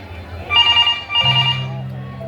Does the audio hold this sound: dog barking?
no